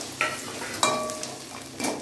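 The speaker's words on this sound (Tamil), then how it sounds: "கடுகு பொரிஞ்ச உடனே கட் பண்ணி வச்சுருக்க வெங்காயத்தையும் பூண்டையும் நம்ம உள்ளே போட்டு நல்லா வதக்கணும்" Onion and garlic sautéing in hot oil with popped mustard seeds for lemon rice, a steady soft sizzle broken by a few sharp stirring scrapes of a spoon against the pan, close by.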